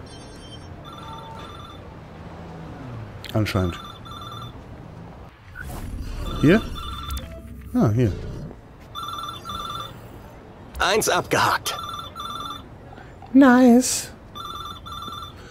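A telephone in the video game Watch Dogs 2 rings in repeated electronic bursts with pauses between them, while someone talks over parts of it alongside game sound effects.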